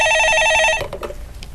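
An electronic telephone rings on a live stock-market call-in radio show, a loud warbling tone in rapid pulses that stops abruptly partway through and gives way to quiet studio sound.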